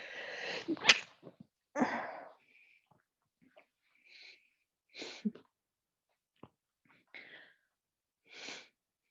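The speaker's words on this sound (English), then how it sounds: "here comes a sneeze" A sharp sneeze close by, followed by scattered sniffs and short breaths in an otherwise quiet room.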